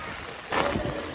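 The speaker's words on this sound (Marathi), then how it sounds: "इकडे पाणी किती सुसाट वारा पाऊस चालू आहे" Loud, steady rush of strong wind and heavy monsoon rain under a red alert in Vasai-Virar, swelling partway through, with a voice faintly underneath.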